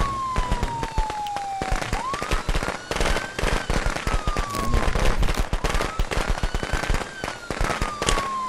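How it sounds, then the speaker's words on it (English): Gunfire in the Friday the 13th video game: rapid, dense bursts of shots cracking loudly and continuously alongside a wavering siren-like tone and other game sounds, with no talk. "They're shooting Jason"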